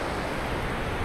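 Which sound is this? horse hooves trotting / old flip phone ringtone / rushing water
rushing water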